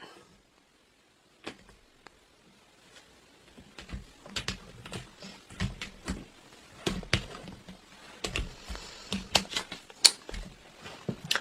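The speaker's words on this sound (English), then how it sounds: "I'm going to cut these because these cards are hard to come out." Tarot deck being cut and shuffled by hand, a run of sharp card slaps and flutters that start sparse and turn into dense rapid bursts, close and clear with no talking.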